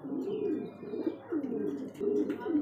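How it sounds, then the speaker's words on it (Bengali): Lahori and Danish pigeons coo at a pigeon farm, several soft, rolling coos repeating close by in a steady rhythm with faint chirps in the background. "এখানে আরো একজন লাহোরি কবুতর মাশাআল্লাহ দেখার মতো টপ কোয়ালিটি বিগ সাইজের মধ্যে"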